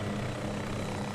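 A helicopter in the game Garry's Mod, a steady dense rotor and engine drone, close and even for about a second, with no voices.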